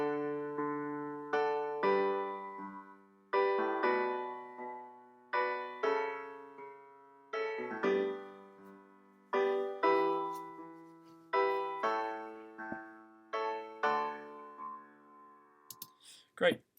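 Piano-like chord sequence played back with altered quaver rhythms, a steady run of sustained chords with quicker off-beat notes between them, clear and moderately quiet, ending with a few sharp clicks.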